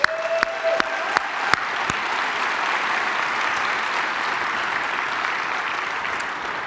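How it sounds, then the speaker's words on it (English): Conference crowd at WordCamp US Nashville clapping to welcome a speaker on stage, a full, even roar of applause that starts with a few sharp claps and holds steady. "Round of applause for Matias."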